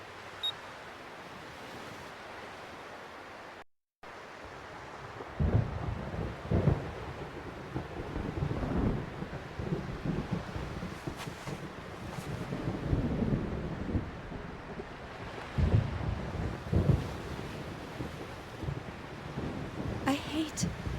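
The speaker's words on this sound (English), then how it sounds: "I hate thunder." Thunder rolls over a simulated beach in the Xenosaga video game: a short silent break, then long, low, rumbling swells that rise and fall over wind and surf noise, loud and continuous, with no speech.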